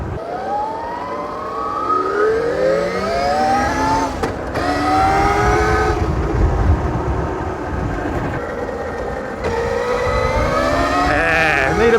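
A BRZ Racoon Pro 84v 21kW electric bike being ridden, its loud motor whine rising and falling in pitch over constant rushing wind and road noise.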